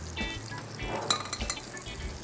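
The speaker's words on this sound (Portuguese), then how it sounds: "Aqui eu já posso ir botando o nosso feijão aqui na panela para dar uma esquentada antes de bater." Cooked black beans warm in a pan with a soft steady sizzle, broken by a few light clinks and stirring scrapes, with no talking.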